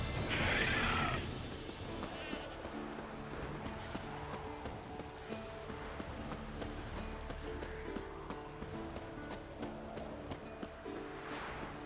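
A horse whinnies loudly at the start in The Witcher 3: Wild Hunt, followed by a steady low ambient hum with faint rhythmic clicks and buzzing in the background.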